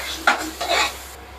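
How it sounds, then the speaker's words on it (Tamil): Vegetables being stirred and sautéed with rock salt in a pan while cooking a vegetable biryani at home, two short scraping stirs over a soft sizzle, close and fairly loud. "போட்டு அதையும் போட்டு நல்லா ஒரு வணக்கி விட்டுருங்க."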